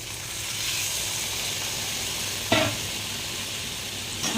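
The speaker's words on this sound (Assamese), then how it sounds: "তাতে এতিয়া দি দিম পানীখিনি।" Water poured into a pan of frying onions for a small-fish dish sets off a steady, close sizzle and hiss, with a couple of brief scrapes of stirring; no voices.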